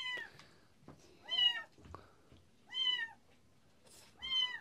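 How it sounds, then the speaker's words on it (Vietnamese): A hungry kitten meows three times in a home kitchen, each call loud, drawn-out and evenly spaced, with faint clatter and soft background noise between the cries. "bây giờ ngửi thấy cái mùi nước phở thì lại kêu lên"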